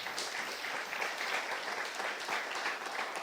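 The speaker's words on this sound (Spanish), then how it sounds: "Dele un aplauso al Señor." A church congregation applauding during a sermon, a steady wash of many hands clapping together, moderately loud and continuous for a few seconds with no clear voices over it.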